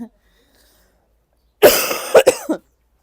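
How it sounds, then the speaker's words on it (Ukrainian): A woman coughs close by in a short, harsh fit of three or four coughs after a moment of silence, set off by airborne fluffy pollen. "Ось від нього я почала кашляти."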